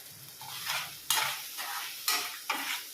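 A spatula scrapes and stirs leftover idli with masala in a hot frying pan, with several distinct scraping strokes over a soft sizzle, close by.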